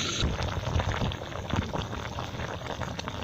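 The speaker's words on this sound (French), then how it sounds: "Observez le comportement de notre recette en train de mijoter." Bat meat stew simmering in a covered pot, a steady close bubbling and soft popping that runs unbroken throughout with no voices.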